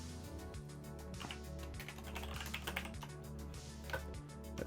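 Rapid typing on a computer keyboard, close and steady, with dense clicking keystrokes running throughout over a low constant hum.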